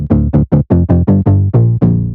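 An ethereal synth patch shaped by EQ, sine wave distortion and compression plays roughly eight thick, even, punchy notes in a steady rhythm, loud and up front with no voices.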